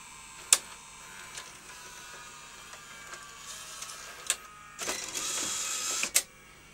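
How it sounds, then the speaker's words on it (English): A professional video deck mechanism ejects a tape and unlaces it, giving faint motorized whirring with soft clicks and clunks, a sharp snap near the start and a brief louder motor run toward the end, with no talk. "And let's eject and watch it unlace."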